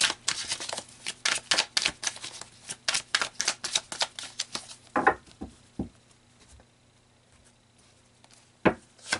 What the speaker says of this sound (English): So let me pull some more cards here to see how all this is playing out.